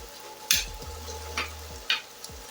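Ground beef sizzles in a pan at a low, steady level for homemade cheesy nachos. A few sharp scraping or stirring clatters stand out above it.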